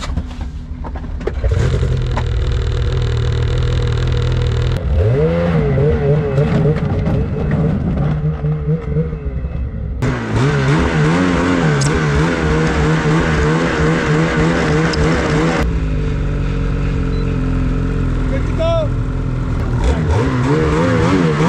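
A 2024 Summit X Expert Turbo snowmobile being broken in on a powder day, its engine revving up and down in loud, continuous waves as the speed is varied, with no talking.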